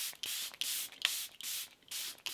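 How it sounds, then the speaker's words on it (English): Makeup setting spray hisses out of a pump bottle in about five short, close bursts with brief pauses between them. "So I'm just gonna spray this"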